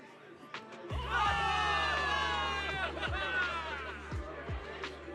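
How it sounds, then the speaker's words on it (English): A crowd of soldiers cheers a victory in the video game Zenless Zone Zero, loud sustained shouting and whooping with a deep rhythmic pounding underneath. "Give it up for yourselves, soldiers! Cheer for victory!"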